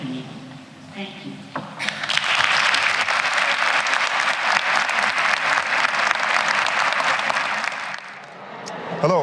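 Audience applause at a women's awards brunch in a city hall rotunda, a loud, sustained wave of clapping that swells after a brief lull with faint talk and fades near the end.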